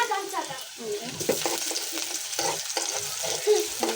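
Meat curry frying in a pot with onion, chili and spices, a moderate crackling sizzle with intermittent stirring scrapes, close by, with faint background voices.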